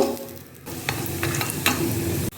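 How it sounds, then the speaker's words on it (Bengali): Lentil dumplings (dal bori) frying in oil in a pan, a dense close sizzle with a few quick scrape ticks from stirring, then an abrupt cut-off. "ডালের বড়ি ভেজে নেব"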